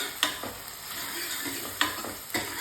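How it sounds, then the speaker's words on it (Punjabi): Tomatoes with chili powder fry in a pan, a soft continuous sizzle broken by a few distinct scrapes and taps of a spoon stirring, with no talk. "2 ਤੋਂ 3 ਮਿੰਟ ਹੋ ਗਏ ਟਮਾਟਰ ਭੁੱਜਦੇ ਨੂੰ ਇਸੇ ਸਟੇਜ ਤੇ ਆਪਾਂ ਨੇ ਅੱਧਾ ਚਮਚ ਦੇਗੀ ਮਿਰਚ ਪਾ ਦੇਣੀ ਹੈ ਤੇ ਇਹਨੂੰ ਚੰਗੀ ਤਰ੍ਹਾਂ ਹਿਲਾ ਕੇ"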